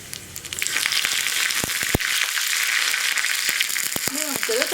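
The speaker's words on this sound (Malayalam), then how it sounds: "കടുകൊന്ന് പൊട്ടി തുടങ്ങട്ടെ" Mustard seeds splutter and pop in hot oil for a tempering, a loud continuous sizzle dotted with sharp crackles and a few metallic clicks, with a brief voice near the end.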